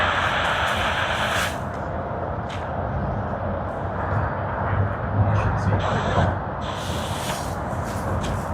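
An airliner on a Brisbane to Sydney service roars at Sydney Airport as a steady broadband jet rumble and whoosh. The noise holds at a fairly even level, with some background crackle.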